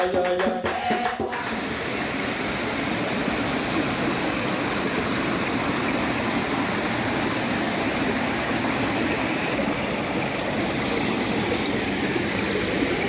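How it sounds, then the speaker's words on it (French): Water pours steadily into the intake grate of a river catchment on the Rivière Blanche, a loud, continuous rushing wash that fills the whole stretch with little variation. "l'eau entre dans la grille"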